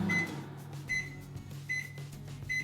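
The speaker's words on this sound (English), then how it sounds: "I'm going to put it in the microwave, but not for too long because I don't want it to melt" A microwave oven running while softening butter, a steady low hum with repeated beeping tones, close and fairly loud, with no one speaking.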